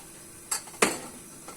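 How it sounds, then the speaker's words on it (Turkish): A metal pot of hot sherbet is lifted from the stove in a home kitchen, giving two sharp metallic clanks close together and then a faint tap, with no talk. "Şimdi şu şerbet tenceresini alayım."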